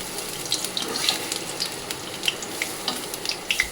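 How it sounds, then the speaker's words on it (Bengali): Bora fritters fry in hot oil with a dense, close sizzle and frequent bright crackles and pops scattered throughout, with no speech. "দেখো বড়াগুলো ভাজা হয়ে গেছে, এবার এগুলো তুলে বাদবাকি যেটা আছে সেটা ভেজে নেব।"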